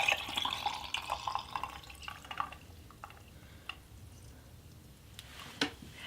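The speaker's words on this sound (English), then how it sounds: "we're going to actually take the hot coffee and we're going to pour it into these iced, I guess a wine glass" Hot coffee from a Vietnamese coffee press poured into an iced wine glass, a faint liquid trickle with dripping and small crackles of ice, loudest at first and then thinning to scattered drips in a quiet room.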